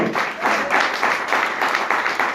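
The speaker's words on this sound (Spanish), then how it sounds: "¿Cuánto le pueden dar un fuerte aplauso a la palabra del Señor?" Church congregation applauding during a service, a dense, loud, sustained wash of many hands clapping together, swelling in rhythmic waves.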